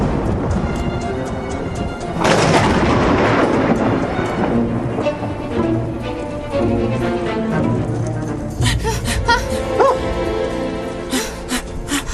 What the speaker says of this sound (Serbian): Ta munja je bila prilično blizu, zar ne?